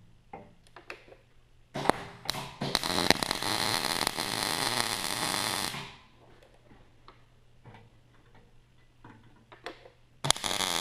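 Tack welding a steel hinge onto a steel track pad, heard as a loud sustained crackling burst of about four seconds, preceded and followed by a few sharp taps and clicks, with quiet workshop background between.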